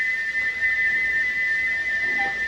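Gordon the steam engine's whistle blows as one long, steady, shrill tone held the whole time over faint background noise, with no talk.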